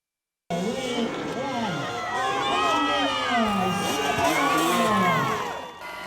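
A pumped crowd at the Mountain Thunder freestyle motocross show on a fine summer day, loud cheering with shrill whoops and excited shouts, including children's voices, rising and holding steady before easing off at the end.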